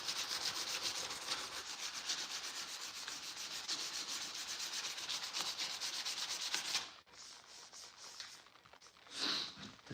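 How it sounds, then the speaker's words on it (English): A car bumper is hand sanded in a garage with a steady, close, scratchy rubbing of paper on the surface. The strokes run continuously for about seven seconds, stop, then pick up again briefly near the end. "Hand sanding."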